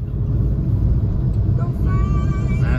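A vehicle rolls across a refinery with a steady low engine rumble and road noise from inside the cab, and a faint higher whine joins in near the end.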